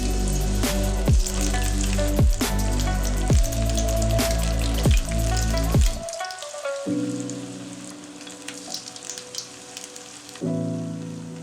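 Cauliflower pieces for Gobi 65 deep fry in hot oil in a kadai, a steady loud sizzle with several sharp drops as pieces go in, then the crackle settles to a quieter bubbling before surging again near the end.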